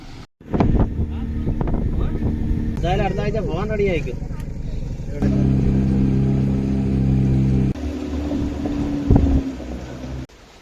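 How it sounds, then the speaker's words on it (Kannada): Steady engine drone from a boat on the Ashtamudi backwaters in Kerala, close and continuous with rumbling low tones and some wind buffeting. Someone talks over it. "ಇಲ್ಲಿ ಮುಂದೆ ಒಂದು ಬೋಟ್ ಬರ್ತಾ ಇದೆ, ಸಿ ಅಷ್ಟಮುಡಿ ಅಂತ"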